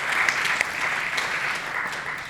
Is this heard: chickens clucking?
no